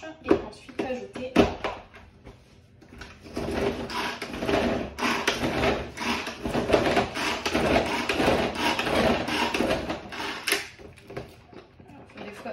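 A Tupperware hand chopper mixing chorizo slices, giving repeated rattling, whirring pulls with plastic clatter, close up and in uneven bursts, with a speaking voice heard briefly.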